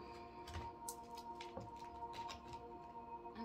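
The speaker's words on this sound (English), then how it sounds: "This one's a little bit hard to shuffle." A stiff Rider-Waite-style tarot deck is shuffled by hand, giving soft papery flicks and riffles in uneven bursts, quiet and close over faint steady background music.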